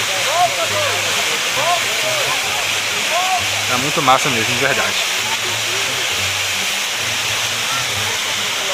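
Water spilling over a dam in Montanha, Espírito Santo, after heavy rain, a steady broad rushing roar filling the scene, with several people talking close by over it.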